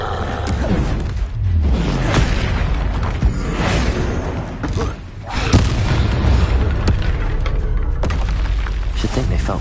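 Blasts of the Confringo spell in Hogwarts Legacy, heavy booming explosions with rumbling tails across a busy combat mix, loud and dense, with voices calling out in the fight.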